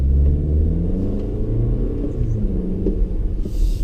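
A 2018 Toyota Camry engine accelerates at higher speed, a loud, steady low rumble with rising revs running throughout, heard up close with no talking.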